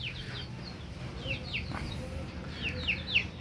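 Caged chickens clucking and chirping nearby, several short calls scattered over a low background hum, with faint voices in the distance.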